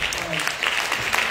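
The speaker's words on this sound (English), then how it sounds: "I want to one more time applaud our senior mission president, Daniel and our staff." Applause from a church congregation during a Sunday morning worship service, steady dense clapping filling the room for a brief moment without pause.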